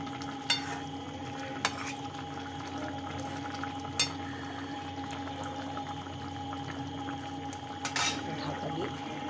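A pan of pabda fish curry with potatoes is stirred over low, steady sizzling, with a few sharp clinks of a spoon against the pan scattered through a quiet, continuous background.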